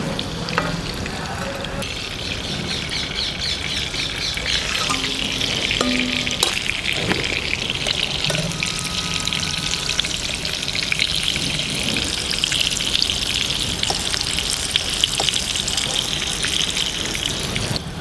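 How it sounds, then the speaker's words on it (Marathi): Stuffed karela (bitter gourd) frying in a pan over low heat, giving a steady, continuous sizzle that runs the whole time, with occasional clinks and light stirring sounds and no talking. "भरलेले कारले कमी आचेवरच तळून काढायचे राहतात"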